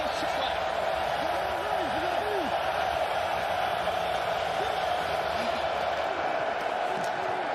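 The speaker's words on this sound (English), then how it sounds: "Crowd loud on third down again" Loud, steady roar of a stadium crowd at an XFL game between the New York Guardians and St. Louis Battlehawks on third down, a dense wash of noise filling the whole stretch with no clear breaks.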